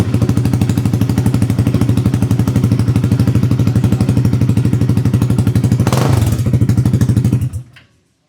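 A Royal Enfield Himalayan 450 motorcycle engine runs loud and raw with no exhaust pipe, a fast, steady rumbling pulse with one brief burst near the end before it cuts off.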